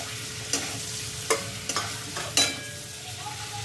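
Paneer cubes sizzle in a frying pan under a steady hiss, with several sharp scraping strokes of a spatula stirring them at irregular intervals, close and clear with no talking.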